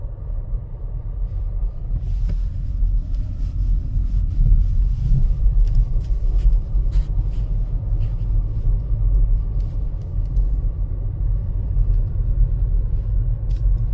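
A car rolls along a snowy road early in the morning, a steady low engine and tyre rumble with faint rattles inside the cabin, continuous and close, with no talking.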